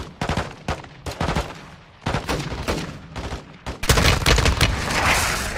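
Gunfire rips through a Call of Duty Modern Warfare II battle, with several dense bursts of automatic shots and heavy booms separated by short gaps, loud and close, ending in a sustained roar of fire.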